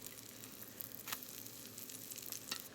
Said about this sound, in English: the butter is starting to get a little bit brown in the bottom of the pan